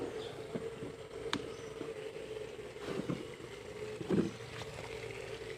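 Water from a pipe falling onto stones in a concrete filter tank, a steady splashing rush with a few louder gurgles and spatters, fairly faint.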